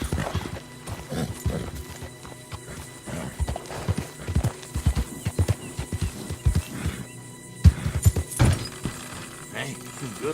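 Horse hooves clip-clop in Red Dead Redemption II, a string of uneven, close hoof strikes mixed with game sounds while people talk over them.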